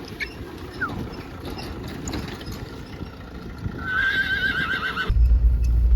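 A horse at a cord-riding competition gives a loud, close whinny with a rising then wavering pitch, preceded by faint hoof sounds and shuffling, ending in a low rumble of wind or handling noise.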